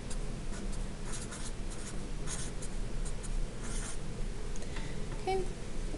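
Pen or marker scratches across a surface while a trigonometry equation is written out, with quiet, irregular strokes and short bursts in a steady rhythm over faint background noise.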